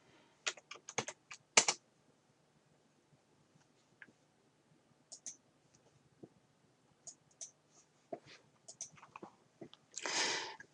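Typing on a computer keyboard at a desk, quiet bursts of close clicking keystrokes spread irregularly across the stretch with short pauses between them, no talking.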